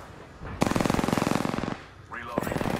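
Rapid automatic gunfire in a video game rattles in two loud, fast bursts, one long and one shorter, with a brief game voice between them.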